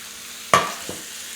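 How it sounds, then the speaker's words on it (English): Vegetables and green onions stir-fried in a pan: a quick burst of sizzle as they hit the hot surface, then a second smaller scrape, short and close. "let's just add the vegetables"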